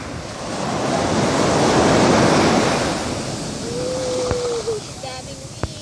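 Ocean surf rolls onto a beach in Ilocos, a loud steady wash of breaking waves with wind buffeting the microphone, swelling then easing, with a brief whistle-like tone and a couple of sharp clicks near the end.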